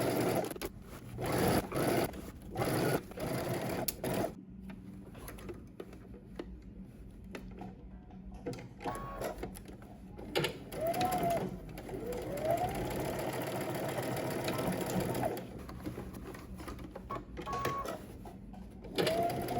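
Sewing machine stitching a seam around a garment at a 5/8-inch allowance, running in quiet, close stretches of mechanical whirring with brief stops and a faint background hum.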